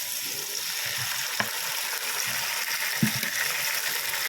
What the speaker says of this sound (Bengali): আর এই বড়াগুলো এর মধ্যে দিয়ে দেবো, দিয়ে নেড়ে চেড়ে নেবো।